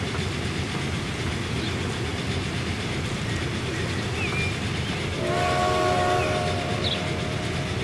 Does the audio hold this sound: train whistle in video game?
yes